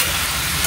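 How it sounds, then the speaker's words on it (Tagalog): Eggplant frying in a pan, a dense, close, steady sizzle filling the short moment with no talking. "Yung talong natin nga prito."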